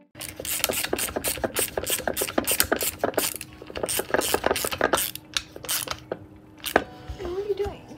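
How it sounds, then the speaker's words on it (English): A quick-action hand ratchet socket wrench clicks in fast repeated bursts during a 1950 MG TD rebuild, with a few pauses between runs of ratcheting. "It's just a little quick hand wrench or socket. So it can go both ways."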